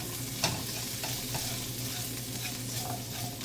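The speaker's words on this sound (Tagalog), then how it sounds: "So, next natin ilalagay yung carrots. So, mix lang natin." Carrots get stirred into a hot pan with asparagus and shrimp, giving a steady close sizzle under intermittent scraping and clacking of a spatula, with a louder knock near the start.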